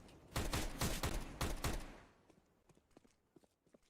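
Pistol gunfire in Counter-Strike: Global Offensive: a quick string of loud, close shots over the first two seconds, then scattered fainter distant pops and clicks.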